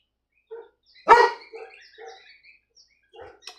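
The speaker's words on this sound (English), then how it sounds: "What's he barking at?" A dog barks once, sharp and close, with a few softer yips and whines around it in an otherwise quiet room.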